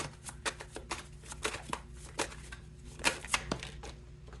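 Tarot cards being shuffled in repeated quick riffles and flicks, close and fairly quiet, with no talking over them.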